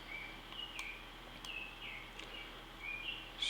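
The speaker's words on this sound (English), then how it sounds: "That's why you can hear birds all over." Birds chirping and calling outdoors at 3 a.m., a few short high chirps and whistles scattered through quiet background hiss, faint and at a distance.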